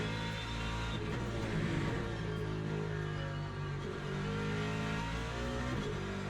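A racing car engine in a video game holds a steady, loud, close drone at high revs, with slight swells in pitch as it drives.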